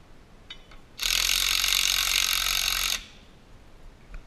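A ratchet tightens a 1/2-inch bolt on a steel target mount, giving a single steady two-second burst of rapid clicking, close and fairly loud, with quiet before and after.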